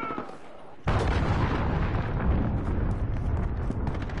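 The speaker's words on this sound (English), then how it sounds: "Enemy cruise missile." An enemy cruise missile in a video game explodes with a sudden loud boom, and a dense rumbling roar keeps going for several seconds afterward.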